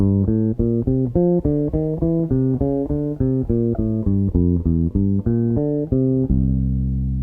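A bass guitar plays a Charlie Parker double-time bebop lick slowly, a steady line of separate plucked notes at an even pace, ending on a sustained held note.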